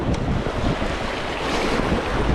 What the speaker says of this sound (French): Il y a pas mal de vagues, mais je sais pas, j'aime pas.